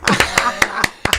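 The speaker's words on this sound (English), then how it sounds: "Slow clap." A single person gives a slow clap in a podcast studio, with about six sharp, evenly spaced hand claps close to the microphone and a brief pause before the last two. A faint chuckle sits between the claps.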